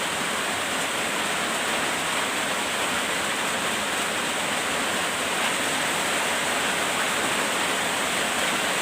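Rain falls steadily at night in a dense, even roar that stays constant and close throughout, with no voices or other sounds breaking through.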